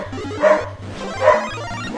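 Dogs barking repeatedly in the retro-styled video game Abobo's Big Adventure, yapping in quick bursts over chiptune background music, fairly loud and close.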